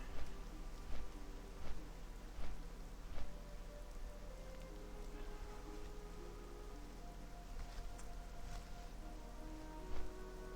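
Steady rain falls in the World of Warcraft Classic game world near Southshore and a river, a soft continuous hiss with scattered louder drop taps throughout, no voices.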